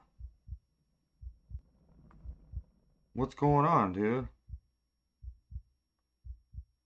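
Heartbeat effect in the horror game Boogie Man, deep thumping double beats repeating steadily, close and loud, with a voice speaking briefly over the middle.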